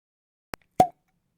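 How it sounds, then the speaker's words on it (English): A single champagne cork pops out of a bottle as it is pulled, a short sharp plop preceded by a faint tiny click, heard alone in silence. "The champagne cork popped when he pulled it out."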